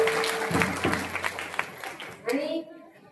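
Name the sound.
applause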